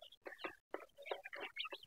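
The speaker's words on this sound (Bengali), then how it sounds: "3টে দেশি বাচ্চা আছে মুরগি, এই যে দেশি বাচ্চা 3টা, একবারে ছোট" Three tiny desi chicks, about ten days old, raised alongside Sonali-type farm chickens, give quick bursts of high chirping and soft clucking, close by and clear, broken by a couple of brief silent gaps.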